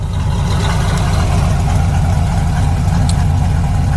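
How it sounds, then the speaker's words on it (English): A 1978 Chevy Camaro LT with dual exhaust and chrome tips idles steadily, a close, even low rumble that holds without change throughout. "The dual exhaust sounds great, comes out nice with some nice chrome tips."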